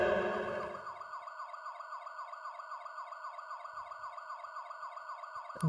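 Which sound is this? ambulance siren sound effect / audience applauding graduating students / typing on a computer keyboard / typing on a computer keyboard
ambulance siren sound effect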